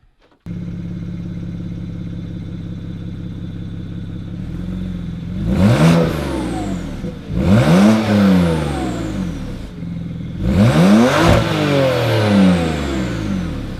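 A 2007 BMW 335i E90 with a twin-turbo N54 engine idles steadily, then roars through three loud, hard revs, each one climbing sharply and falling back to a throaty rumble.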